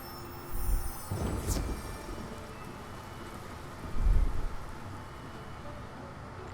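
A rain cloud spell in the video game Wizard101 brings rumbling thunder and rain, two heavy low booms a few seconds apart over a steady wash of rainfall, with no speech.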